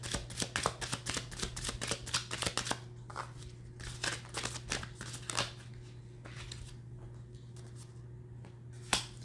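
Tarot cards being shuffled and dealt out for a nine-card spread: quick crisp riffling snaps and flicks over a steady low hum, thinning to sparser, softer card taps toward the end.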